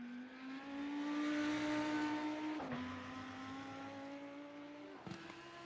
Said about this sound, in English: Coming into the Western Horseshoe, the all-white Lamborghini Huracan Evo.